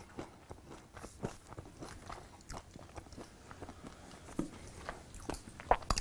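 Goldfish Epic Crunch crackers are bitten and chewed close up, with a series of sharp, irregular crunches and quieter chewing between them.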